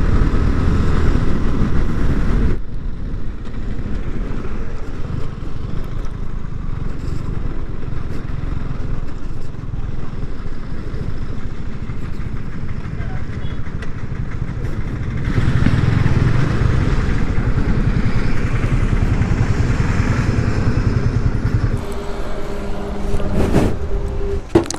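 Yamaha R15 V3 motorcycle ride on the way to a petrol pump, with a steady, loud engine drone and road and wind rush throughout, shifting in tone a few times.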